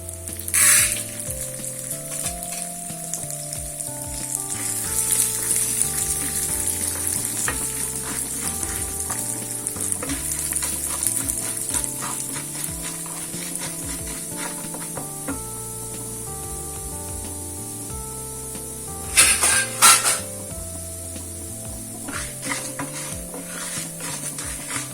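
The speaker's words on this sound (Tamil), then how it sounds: "இந்த உளுந்த போட்டு இப்போ நம்ம வறுத்துக்கலாம்." Urad dal roasting in a pan while being stirred, giving a continuous dry sizzle and rustle with rhythmic scraping strokes and a couple of brief metallic clatters.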